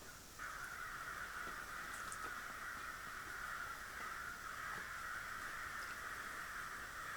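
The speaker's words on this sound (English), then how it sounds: "it sounds like from the squawking that the crows are doing that the hawks are out" Crows squawk and caw over a steady hiss of background noise, the calls faint and distant, repeating irregularly through the whole stretch.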